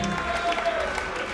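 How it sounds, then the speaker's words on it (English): Crowd applause at a chess boxing event, a short steady wash of clapping and cheering from a large audience mixed with a voice over a loudspeaker. "let's give Toby Slowby White a huge round of applause"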